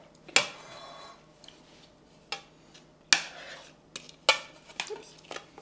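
Homemade vegan brownie batter is scraped from a bowl into a baking pan: sharp utensil clinks and clatters against cookware come in scattered bursts, with quiet gaps between them.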